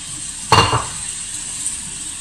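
Bell peppers for ratatouille hitting a hot pan, with a short loud burst of sizzle and a clatter, then a steady frying hiss.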